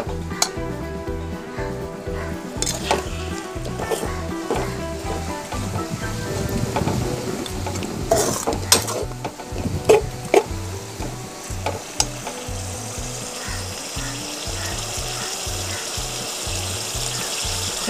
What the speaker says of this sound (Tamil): நல்லா ஃப்ரை பண்ணிக்கலாம் சிக்கன் ஆட் பண்ணதுக்கப்புறம்.